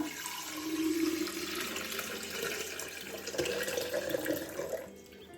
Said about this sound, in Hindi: इसमें हम ऐड करेंगे 1 जग पानी का।